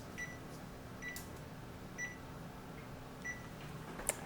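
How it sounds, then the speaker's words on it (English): A kitchen oven timer being set while kale chips bake at 350 degrees, heard as a few short, faint beeps spaced irregularly, ending with a sharp click. "we're just going to set our timer for 10 minutes"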